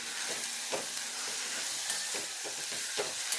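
Masala is stirred into a moth bean curry in a pan, a soft sizzle punctuated by several rhythmic scraping strokes of a spoon.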